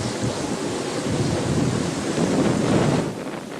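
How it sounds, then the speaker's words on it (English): Strong wind blowing in Antarctica at Boat Harbour, a loud continuous roar buffeting the microphone, steady and close with slight surges, no voices. "It's the windiest place on Earth, with gusts recorded up to 300 kilometres an hour."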